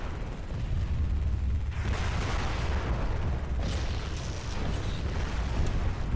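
Mech weapons fire in the video game MechWarrior Living Legends, dense booming shots and blasts over a constant low rumble of battle, loud and continuous with no talk.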